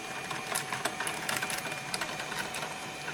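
A flywheel driven by two sets of 3-phase wire coils at 5 Hz gives off a steady, close mechanical whir with fine rapid ticking, running alone with no talk.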